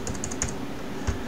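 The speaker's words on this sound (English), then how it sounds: "use your arrow keys on your keyboard" Arrow keys pressed on a computer keyboard while editing in a Linux terminal, a quick run of light clicks then a single later tap, close and steady over faint background hum.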